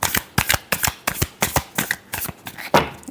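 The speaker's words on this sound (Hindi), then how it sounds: "Last shuffle." Tarot cards being shuffled by hand, a close, crisp run of about a dozen rhythmic riffling bursts evenly spaced, ending in a slightly longer riffle.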